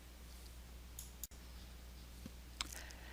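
Single sharp computer mouse click in a quiet room, followed by a second fainter tick a moment later, over a low steady hum.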